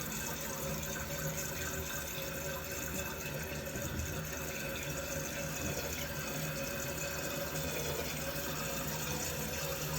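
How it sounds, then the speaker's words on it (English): A toilet tank refilling after a fill valve repair, steady rushing and hissing water that runs constantly at moderate volume with no pauses or voices. "right now, the tank is refilling"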